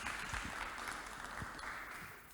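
An audience applauds as a director is welcomed to speak at a webinar on low-waste living, giving a brief, moderate clatter of clapping with a few low thumps that fades slightly toward the end.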